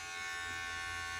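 An electric shaver buzzes continuously at a bathroom sink, a steady close-up whine with a constant tone and no pauses.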